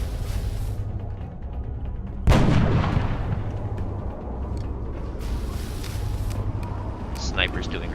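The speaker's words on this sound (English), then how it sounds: "Taking heavy fire." In XCOM, a heavy gunshot or blast cracks out sharply and loud, then decays into a rumbling tail, with a steady game background and a few faint clicks around it.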